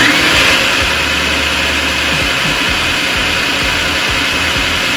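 A food processor whirs steadily as it blends a jerk chicken marinade with soy sauce among the ingredients, a loud continuous motor drone running without pause and with no talking.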